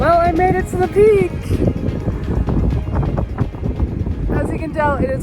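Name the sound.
strong wind on a mountain summit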